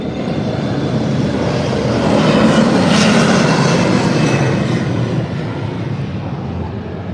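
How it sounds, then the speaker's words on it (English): Alaska Airlines jet taking off from the small Monterey Regional Airport, a loud broadband engine roar heard from inside that swells in the middle and stays steady throughout. "This was a nice takeoff."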